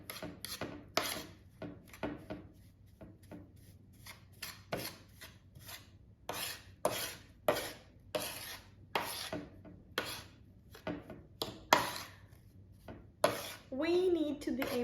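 Spoon scraping and rasping through a baking soda mixture for artificial snow, a run of repeated gritty strokes, close and fairly loud, with short gaps between bursts and a brief voice near the end.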